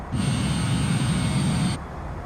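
An ERJ-195F airliner descending in Microsoft Flight Simulator 2020 gives a steady, broad engine roar and airflow rush that holds level for under two seconds before cutting off abruptly, leaving a quieter hum.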